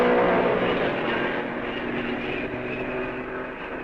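Formula 1 Mercedes race cars from the Fangio era roar past in a loud, continuous engine drone that slowly fades as the field goes by, with no talk over it.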